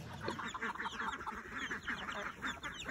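A flock of ducks, including Muscovies, runners and khaki Campbells, quacks continuously nearby, overlapping, busy calls filling the whole stretch.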